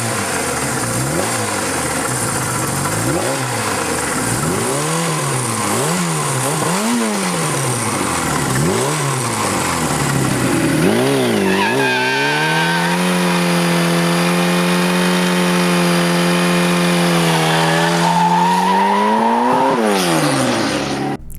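A Kawasaki Z1R TC factory turbo motorcycle engine revs loudly in repeated rising and falling blips, then settles into a long steady high-revving hold before dropping away, close and alone with no talking.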